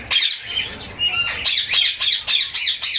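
Home-bred green parrot breeder pairs squawking in their cage, a rapid series of harsh, loud, close calls repeating in quick bursts with no talk.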